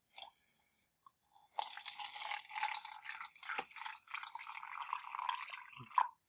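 Liquid solutions poured into a cup in a home chemistry demonstration, a faint, close splashing trickle lasting several seconds after a couple of small clicks, with no talk.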